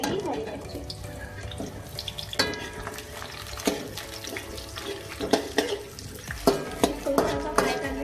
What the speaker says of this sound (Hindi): लहसुन को थोड़ा फ्राई कर लें, और इसके साथ ही इसमें जाएगी हरी मिर्च।